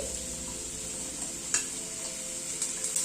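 Pumpkin and potato fry in a pan with a continuous bright sizzle, punctuated by a couple of quick stirring clicks from the spatula, no voices.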